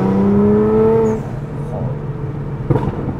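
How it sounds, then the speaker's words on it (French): A Nissan GT-R R35 revs with a rising engine note under nearby conversation, followed by a brief sharp exhaust pop. "quand t'as une GTR, t'as le droit de faire de la mitraillette"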